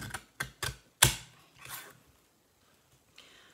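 A paper trimmer shaves a thin strip off a piece of cardstock, a few sharp clicks and a crisp slicing stroke followed by a softer scraping slide, close and otherwise quiet.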